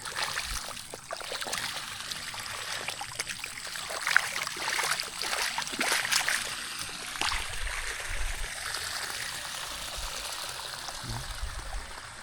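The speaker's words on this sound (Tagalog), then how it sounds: "Lakas talaga ang tubig galing sa taas." Strong water pours down from above at a small car wash, a constant close rushing splash with gurgling and trickling throughout, steady and fairly loud, with no talking.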